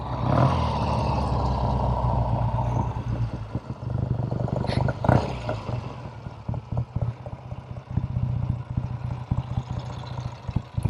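A 1969 Triumph Tiger 650 TR6R motorcycle engine runs nearby with a steady, throbbing mechanical drone and some pulsing surges.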